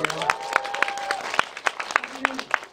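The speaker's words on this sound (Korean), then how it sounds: "저희 아름다운 구정 감독에게 큰 박수 한번 부탁드립니다." Audience applause for a film director at a Korean movie screening event, scattered claps and crowd noise with distinct louder hand claps, a voice briefly audible in the mix.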